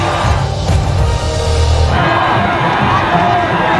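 A large crowd cheers and roars continuously, loud and dense, with whoops rising out of the noise, as drivers reach the podium after a Formula 1 race in Bahrain in the video game F1 25.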